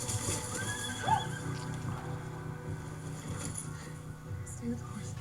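Horses whinny loudly and their hooves clip-clop at close range during an outdoor scene, with a steady wind-like rumble underneath.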